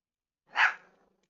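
A single short dog bark from a Roblox Adopt Me pet, clean and isolated against silence.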